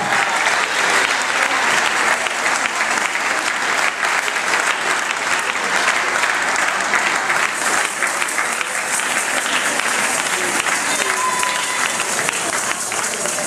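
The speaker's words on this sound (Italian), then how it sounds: "l'applauso del pubblico" Steady, dense applause from an audience at a ballroom dance competition, the Park Hotel Elizabeth Cup, continuing evenly at full strength for the whole stretch without a break.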